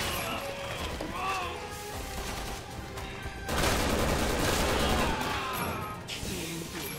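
Sustained machine gun fire in Resident Evil 6, a dense, chaotic stream of shots and crashing impacts that swells loudly in the second half, with voices and game sounds underneath.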